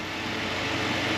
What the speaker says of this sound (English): let's go out and hear the motor run with the hood up